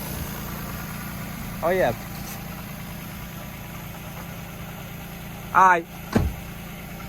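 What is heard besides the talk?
Lexus GS300 and SC300 engines idling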